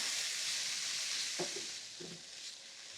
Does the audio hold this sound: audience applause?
no